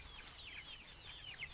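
Chickens and a rooster in a yard give soft clucks and quick, high, sliding chirps in a loose, irregular rhythm, moderately close and faint, with no one talking.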